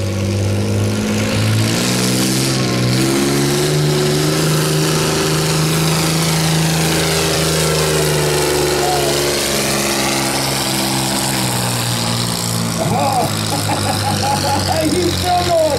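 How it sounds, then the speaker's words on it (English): International Harvester 560 tractor engine roaring loud and sustained under heavy load during a tractor pull, its pitch shifting steadily, with an announcer talking over it near the end. "Dwayne Sonnenberg from Burgess in an International Harvester 560. Yes, he's got a little more horsepower."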